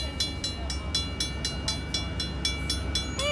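A fast freight train led by two Norfolk Southern Dash 9 locomotives rumbles past close by at night, its wheels clacking in a steady repeating rhythm over the rails, with a continuous low roar beneath.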